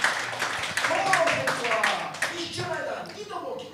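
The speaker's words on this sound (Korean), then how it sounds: "아멘으로 박수를 주님 앞에 마음껏 돌리시고," A church congregation claps during a sermon, with loud, uneven hand claps rising and falling under a voice that talks over them.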